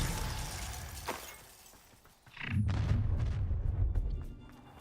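Expelliarmus disarming spell cast in the Hogwarts Legacy game, a sharp crackling magical burst followed by a deep rumbling boom with scattered shattering flickers, fairly loud and sustained.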